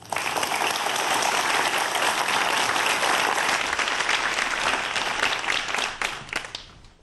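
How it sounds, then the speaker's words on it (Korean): An audience in a lecture hall welcomes a physics professor to the stage with big, sustained applause. The dense clapping stays steady, then thins and fades over the last second. "여러분 큰 박수로 교수님 강연 모시도록 하겠습니다."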